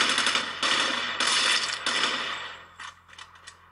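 Automatic gunfire in the mobile shooter Rules of Survival or PUBG Mobile, several rapid bursts of clattering shots with mechanical rattle, loud and close, trailing off into shorter scattered bursts.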